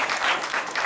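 Short burst of dense, loud audience applause at a magic show, continuous clapping filling the space with no speech over it.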